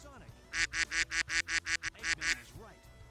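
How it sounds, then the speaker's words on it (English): A rapid run of about ten honking quacks from a cartoonish duck in Sonic Adventure, evenly spaced and fairly close, with faint tonal sound effects before and after. "I hear ducks."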